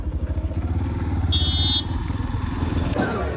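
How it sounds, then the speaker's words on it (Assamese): A motorcycle engine runs with a steady, throbbing putter close by as it tows a tuk-tuk along an outdoor hill road, with a brief high whine partway through; no talk. "মটৰচাইকেলে টানি টমটম ইয়াত"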